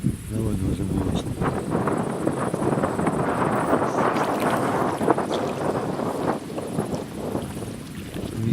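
Wind buffets the microphone on the Luga river during a boat trip, a continuous rough rumble with gusts that persists throughout, mixed with faint water and movement sounds.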